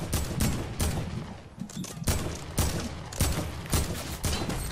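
AK rifle shots in Fortnite, a rapid series of sharp, loud cracks repeating at an uneven rhythm, close and dominant with no talk over them.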